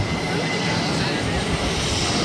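A special-livery Iberia airliner takes off, giving a short burst of dense, steady engine roar at close range with no break or change.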